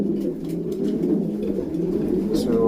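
Racing pigeons coo in a loft, producing a continuous soft, throaty murmur of overlapping low calls, close by, while someone speaks over them.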